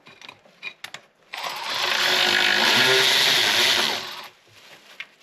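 A power tool whirs steadily for about three seconds while tightening a bolt on the oil cooler of a 2013 BMW X3 35i during gasket replacement, preceded and followed by a few close metallic clicks and handling sounds.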